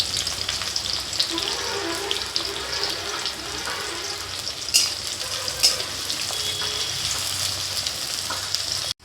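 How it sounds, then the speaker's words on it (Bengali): Chopped onions with bay leaves frying in oil give a continuous close sizzle and crackle, with occasional sharp stirring clicks of a spatula against the pan. "পেঁয়াজটা ভাজা ভাজা হয়ে গেছে।"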